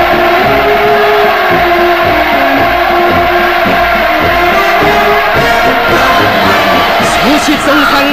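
A vast crowd in North Korea roars and cheers without pause during Putin's visit, a dense, loud, unbroken wall of voices with no single speaker standing out.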